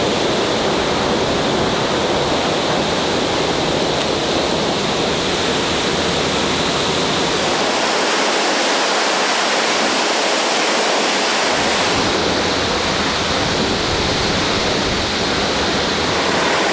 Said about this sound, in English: I'm just getting a bunch of wind from this geyser